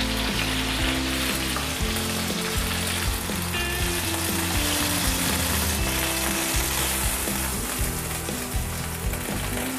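Pork steak frying in a pan, a loud, dense, continuous sizzle and crackle of hot oil that holds steady throughout, with no voices over it.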